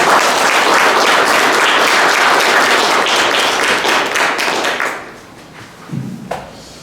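An audience at a seminar on rebirth breaks into loud, dense applause for a Buddhist monk that lasts about five seconds and then dies away, with a brief voice afterward.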